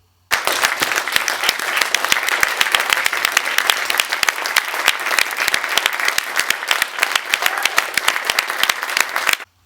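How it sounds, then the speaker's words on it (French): A large audience at a comedy show bursts into loud, dense applause that starts abruptly, holds steady and vigorous for about nine seconds, then cuts off sharply. "Tout ça juste pour des applaudissements."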